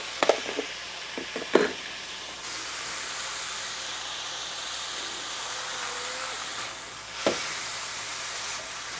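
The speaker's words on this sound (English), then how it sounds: "Because we're gonna steam them up a little bit." Asparagus and caramelized onions steam in a HexClad hybrid nonstick 12-inch pan, giving a steady broadband hiss with a few sharp clatters near the start and a brief burst later; no voices.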